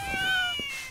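A cat meows once in a video game, a short, rising-then-falling tonal cry heard close over soft background game sound.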